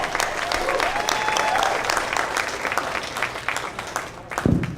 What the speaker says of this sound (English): I want to keep that enthusiasm and that applause going for your next comedian tonight, Tim Marshall.